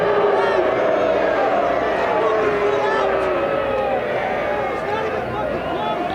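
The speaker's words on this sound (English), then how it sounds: "You can hear how unhappy this Orlando City crowd was with that call." Soccer crowd at an Orlando City versus Pittsburgh Riverhounds match voices displeasure at a referee's foul call, a sustained wash of booing and jeering from the stands that holds steady, distant and broad, without a clear break.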